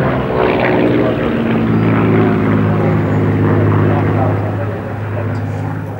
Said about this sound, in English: The Vickers Supermarine Spitfire, here being escorted by the Tornado, is probably the best-known piston-engined fighter in the world.